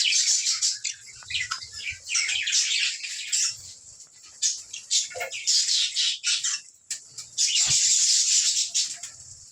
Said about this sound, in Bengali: চলুন ভিতরে গিয়ে আমি পাখিগুলোকে দেখাবো